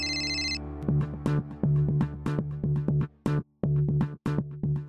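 A mobile phone ringtone plays for an incoming call, a bright repeating melodic pattern of short notes that loops steadily and close by, with no talking over it.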